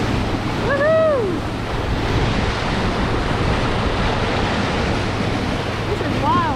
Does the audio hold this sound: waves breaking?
yes